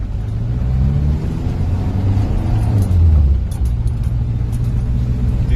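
A Mercedes-Benz 240D W123 diesel with its ALDA deleted drives along, the engine's steady low drone rising and then dropping as the transmission shifts, loud and close inside the car with no talking.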